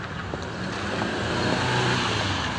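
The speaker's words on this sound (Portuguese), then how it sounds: "mais um carro que vai entrar na contramão" A car drives the wrong way into a one-way street in Canaã dos Carajás, its engine a steady mid-distance road rumble that swells slightly as it approaches, with no talk over it.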